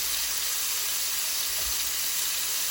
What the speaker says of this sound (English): We're gonna add our patties as much as we can fit on this humongous pan.